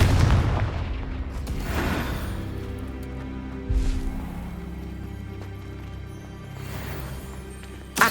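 Confringo fire spell blasting in Hogwarts Legacy during a magical duel: a heavy boom with a rumbling tail, a second muffled thud a few seconds later, and a final sharp burst at the end.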